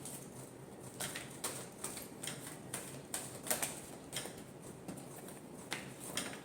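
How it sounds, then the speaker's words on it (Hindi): Tarot cards being shuffled, a run of soft papery riffles and flicks repeating at a quick, uneven rhythm, close and fairly quiet with no talking. "Last shuffle."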